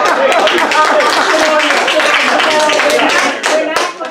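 Clapping from an audience at a Sequim school bond panel, a short burst of hand claps with some voices mixed in, fairly loud and close before fading slightly at the end.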